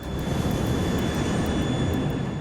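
Engines of a Varig airliner, flight 254, drone loudly and constantly during flight, a dense low rumble with a thin steady tone and faint periodic pulses, close and uninterrupted, with no talk.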